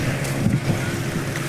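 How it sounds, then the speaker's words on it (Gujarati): High-speed boats at Shivrajpur beach near Dwarka make a steady, loud engine drone mixed with heavy wind buffeting on the microphone, with no pause throughout. "અને આવા બોટ છે બધા હાઈ સ્પીડ બોટિંગ બધું."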